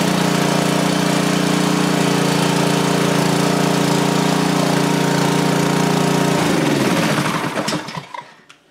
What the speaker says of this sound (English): Now it should start without choke.